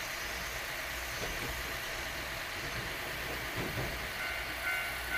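A train rolls through a station in the video game Nostalgic Train, a steady low rumble of wheels and engine holding even for several seconds with faint rhythmic clacks and no voices.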